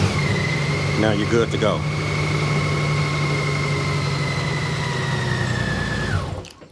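A Honda Goldwing motorcycle engine idles with a steady, even hum close by while someone speaks briefly, then the engine shuts off and the sound dies away at the end.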